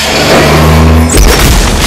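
A massive bomb explosion from the film Alien vs. Predator lands as a sudden deep boom, cutting across a tense droning rumble and leaving a heavy low roar behind it.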